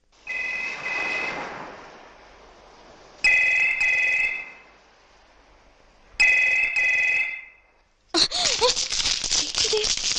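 An unanswered telephone in a film scene rings in three separate bursts of bright, rattling tone with short pauses between them, followed by a harsher burst of clatter at the end.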